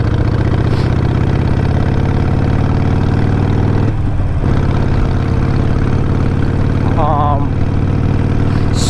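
A Harley-Davidson Iron 883 Sportster engine idling loudly and steadily up close, a low rumbling, heavily vibrating throb that continues with only slight changes.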